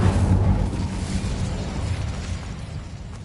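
Incendio fire spell cast in Hogwarts Legacy, a loud whooshing burst of flame that starts strong and slowly fades into a rumbling crackle.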